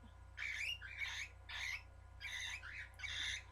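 A tame pet bird gives five or six harsh squawks in a steady series, close and fairly quiet, over a low background hum.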